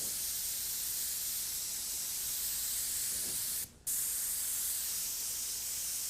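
Airbrush spraying Cameleon paint in a cone, a steady loud hiss throughout with one brief break before it resumes.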